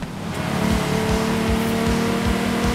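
A Ferrari P4 race car in Forza Horizon 5, its engine holding a loud, steady high-revving drone with pulsing low-end rumble throughout.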